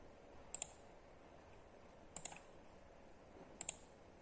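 Three separate pairs of crisp computer clicks, such as an Enter key or mouse button, spaced about 1.5 seconds apart against a quiet room background while a spreadsheet is edited.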